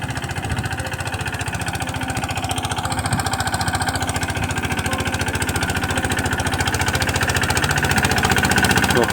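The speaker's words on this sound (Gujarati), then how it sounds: "ફરી આવે છે ટ્રેક્ટર લઈને જો" A tractor engine runs steadily in a farm field at sowing time, a loud, continuous low chugging with a throbbing rhythm that builds slightly in volume, with no voices.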